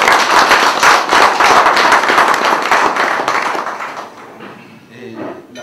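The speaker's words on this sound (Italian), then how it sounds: "l'applauso che va a questo cane" Crowd at a 2008 woodcock hunting-dog field trial in Corleone, Italy, applauding a dog: loud, dense clapping for about four seconds, then it thins and fades while a voice speaks near the end.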